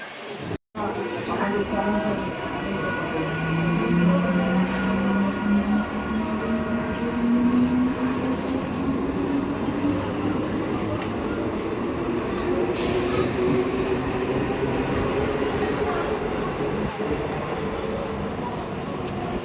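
Passenger train bound for Naihati rumbling along with a steady roar, rising wheel whine and occasional rattles, heard from inside a carriage with people talking nearby.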